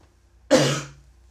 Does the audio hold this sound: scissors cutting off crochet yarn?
no